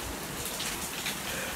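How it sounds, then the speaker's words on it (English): Heavy rain pouring down outdoors, a steady, dense broadband hiss of drops hitting surfaces, continuous and fairly loud throughout with no voices. "Holy crap, it is raining hard out here."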